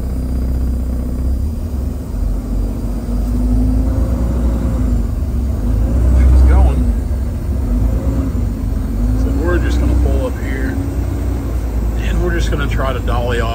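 A truck towing a trailer loaded with a skidder pulls away, its engine a loud steady rumble that swells around the middle and stays continuous under light voices.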